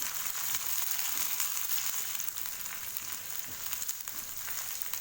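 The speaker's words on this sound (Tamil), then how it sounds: "புதினா இலைகளை சேர்த்துட்டு நல்லா வதக்கி விட்டுக்காங்க." Shallots and mint leaves frying in a pan for chicken gravy, giving a steady, close, continuous sizzle with faint stirring and no talking.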